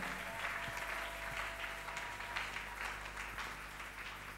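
A church congregation applauds during a worship service, with a dense, continuous wash of many hands clapping at some distance and fairly low in level.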